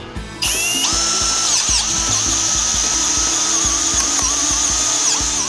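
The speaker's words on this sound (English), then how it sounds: "Insert your Clean Ream Plus into standard drill chuck. Insert the tool into the ID of the pipe and begin." A power drill whines steadily at high speed, with a grinding, chattering rasp as a Reed Clean Ream Plus reaming bit cleans the inside of a pipe fitting, loud and close.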